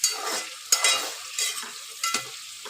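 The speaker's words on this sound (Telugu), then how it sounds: "ఇప్పుడు ఇట్లా కొంచెంగా ఫ్రై అవుతున్నాయి కదా" Chopped onions and vegetables fry in oil for bottle gourd dal, a bright crackling sizzle broken by a few spoon stirs and scrapes in the pan, heard up close without talking.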